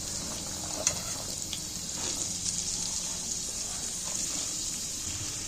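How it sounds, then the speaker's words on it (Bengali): Chopped yardlong beans tipped into hot oil, giving a steady bright hiss and crackle of frying at close range with a soft stir clink near the start, continuing without talk. "তেলের মধ্যে তুলে দিচ্ছি তেল গরম হয়ে গেছে বরবটিগুলো তুলে দিচ্ছি"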